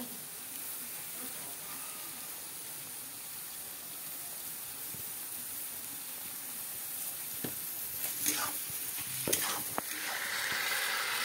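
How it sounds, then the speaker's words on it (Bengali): Spices, tomatoes and green chillies frying in a pan, a steady soft sizzle with a few sharper stirring scrapes and clatters toward the end, close and continuous with no talk. "মশলাগুলো কষিয়ে তারপর ফিরে আসছি।"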